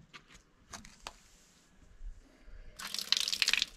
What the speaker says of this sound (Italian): Acqua di sorgente di montagna buona